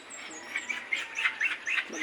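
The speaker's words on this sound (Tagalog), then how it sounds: "ang daming ibon doon na" Many birds chirp outdoors on an early morning before a typhoon, a series of short, bright tweets repeating in a loose, uneven rhythm at moderate distance.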